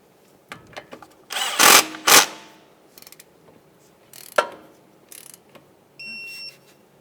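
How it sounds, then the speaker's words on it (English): Torque wrench ratcheting while a banjo bolt on a front brake hose is tightened into the caliper of a 2015-2019 Subaru Outback: several short, close bursts of mechanical clicking separated by quiet gaps. "Now once we have that started in, we're going to snug it up, and then I'm going to torque it to 20 foot-pounds."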